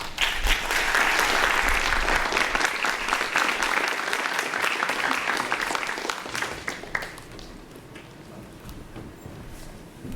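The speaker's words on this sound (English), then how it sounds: "Doesn't she deserve another round of applause," Audience applause at a World Refugee Day event, loud and sustained for about seven seconds, then fading into lighter scattered clapping and room noise.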